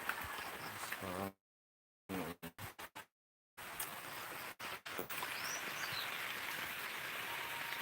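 Steady morning rain patters across the clip, a dense hiss broken by a few abrupt silent gaps, with faint bird calls in the background.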